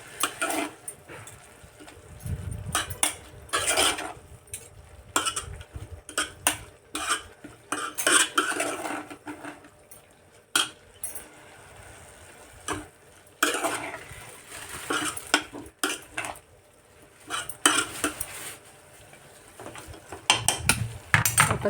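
Red amaranth leaves are mixed in a pan, making intermittent scraping and clattering sounds of a utensil against metal, with quiet gaps between the bursts of stirring.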